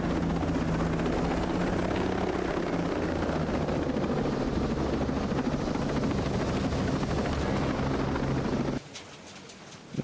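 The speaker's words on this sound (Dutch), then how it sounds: "hij gaat die helikopter aan doen" A helicopter in Ghost Recon Breakpoint gives a loud, steady rotor and engine drone for most of the stretch before cutting off abruptly near the end, with no speech.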